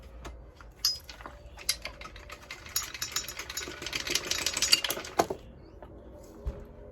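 A loose 8mm socket rattles and clatters inside a Partner R420 chainsaw as it is shaken, a busy run of metallic knocks building to a dense burst, then a few last clinks.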